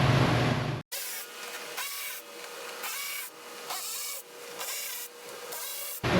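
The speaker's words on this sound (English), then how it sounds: "all I really need to do is take some screws out of here with the right size torque bit" Torx screws are being backed out of a Silverado wheel-well liner with a Torx bit, giving a close, steady run of rhythmic rasping pulses about every half second after a short opening noise, with no talking.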